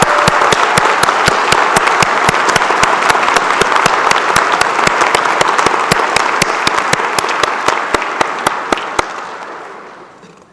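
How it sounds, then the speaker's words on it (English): A convocation crowd applauds student award winners in a full, loud wash of clapping, with one nearby pair of hands beating sharp, steady claps before the applause fades out near the end. "Audience, let's have another round of applause for our Student Award winners!"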